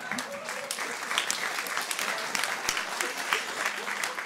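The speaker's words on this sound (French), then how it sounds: "Il y a eu un applaudissement, mais comme d'hab, jamais général." Comedy club audience applauding, a fairly quiet, scattered patter of clapping with a few voices mixed in.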